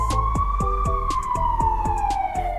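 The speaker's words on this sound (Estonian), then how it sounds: "Praegu kimab siin teel kiirabiauto." An ambulance siren wails continuously as the vehicle speeds along the road, loud and close, its tone sliding slowly up and then down, with rhythmic clattering bursts repeating beneath it.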